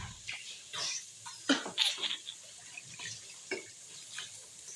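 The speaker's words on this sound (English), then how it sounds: "Just going to get let's say a scoop kind of turning spoon, and I'm going to wash it." Running water splashes over a turning spoon being washed by hand in a home kitchen, with uneven swishes and brief clinks close by, soft and steady throughout.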